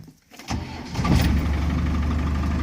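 A Land Rover Defender with a high-mileage engine (230,000 miles) cranks briefly on the starter, catches, and settles into a loud, steady idle close by, with no talking over it.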